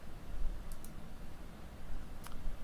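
Mouse clicks on a button in computer software: two quick light clicks near the start and another single click near the end, sharp and close over a faint steady room hiss.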